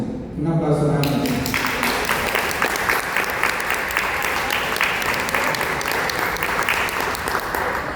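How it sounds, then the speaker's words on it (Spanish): Loud, sustained applause from an audience at a public library literary event, dense clapping that starts abruptly after a brief spoken introduction and continues steadily to the end. "Un aplauso grande."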